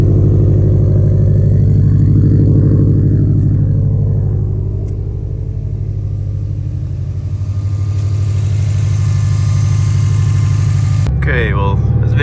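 A 2017 Subaru STI fitted with aftermarket headers runs with a steady, loud low rumble that holds almost unchanged through the drive, then shifts abruptly near the end with a brief burst of higher sound.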